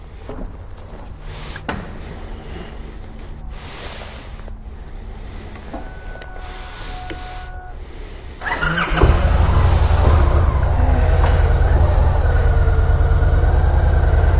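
A 2016 Victory motorcycle with a 106 engine fires up abruptly after some quiet handling noises, then settles into a loud, deep, steady rumbling idle close by.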